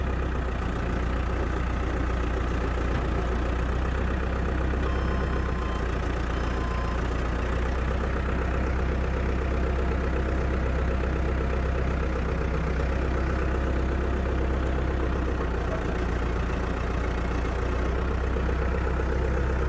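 Steady, loud diesel engine of a backhoe running at a constant idle-like rumble while it yanks on a welded hitch of an International 4700 farm tow rig, continuous with no talk.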